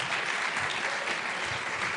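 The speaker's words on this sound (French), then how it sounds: "Est-ce qu'on peut l'applaudir?" A church congregation at an Easter baptism service applauds steadily, a dense, even wash of clapping hands lasting throughout with no pauses.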